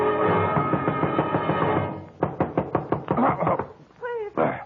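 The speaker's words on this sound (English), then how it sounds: "somebody was knocking on my door" Door knocking in a radio drama: a steady series of sharp, close raps in the middle, followed by a short speaking voice. Lower voices or music play underneath before the knocks begin.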